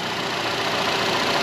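A 2012 Nissan Rogue's 2.5 liter inline four engine runs at a steady idle, showing a P0101 check engine code, heard as an even, continuous hum up close with no talking.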